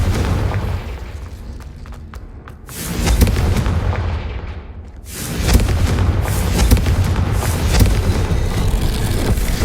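Spell blasts and explosions in the video game Hogwarts Legacy: loud, dense booming bursts with rumbling low end, a brief lull near the middle, then continuous heavy blasts and crackling impacts through the end.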